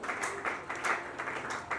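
Church audience applause for the pastors, soft steady clapping from a crowd with rhythmic pulses, faint and somewhat distant.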